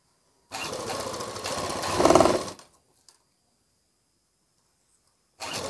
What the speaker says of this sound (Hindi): देखिए, आराम आराम से दम सीना है।